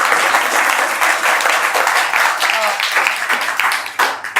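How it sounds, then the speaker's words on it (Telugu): A group of children at an orphanage in Hyderabad clap together in lively, continuous applause, with brief voices mixed in before it tapers off. "super, clap"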